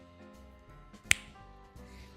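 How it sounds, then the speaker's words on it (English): A single sharp finger snap, close and crisp, standing out briefly against a faint hum of background music. "I just realized as I snapped"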